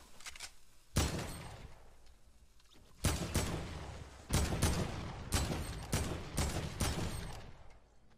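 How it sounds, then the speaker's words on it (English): AK assault rifle bursts in Fortnite ring out in several loud volleys of rapid shots, separated by brief quieter pauses, with no talking. "my AK shot his ass right now"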